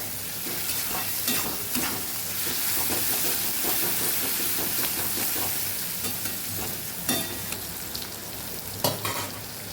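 Garlic and bitter gourd sauté in hot oil, giving a steady close sizzle and hiss with occasional scraping stirs and small pops throughout.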